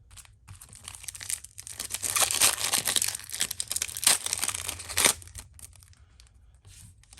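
Foil wrapper of a 1997 Players Club Premier trading card pack being torn open, a run of crinkling, ripping rustles with sharp louder tears, close and alone.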